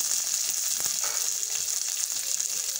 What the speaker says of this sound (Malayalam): അണ്ടിപ്പരിപ്പും കിസ്മിസും ഒന്ന് റോസ്റ്റ് ആവണ വരെ നമ്മൾ ഇളക്കി കൊടുക്കാം